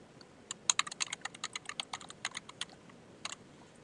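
Password being typed on a computer keyboard: a quick run of crisp, close key clicks in an irregular rhythm, a short pause, then a few final taps in a quiet room.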